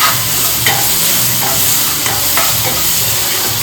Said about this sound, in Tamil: ப்ரான் ரோஸ்ட்டுக்கு ஆனியன் சாட்டே பண்ணிகிட்ருக்கேன்